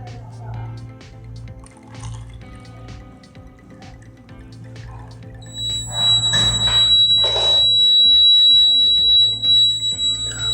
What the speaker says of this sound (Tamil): இப்போ இந்த டம்ளரில் தண்ணி ஊற்றிருக்கோம்